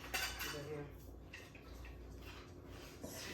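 Dry ingredients with baking powder, for chin chin snack dough, being mixed in a bowl, close clinks and scrapes of a utensil against the bowl over a quiet room, with faint speech.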